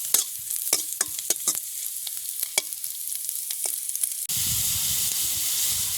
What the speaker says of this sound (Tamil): நல்ல வடிவாக பிரண்டை தண்டெல்லாம் பொறிஞ்சிட்டு